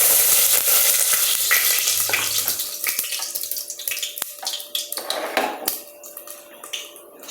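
Whole spices and a bay leaf dropped into hot oil crackle and spit loudly at first, then settle into scattered sharp pops and a softer sizzle.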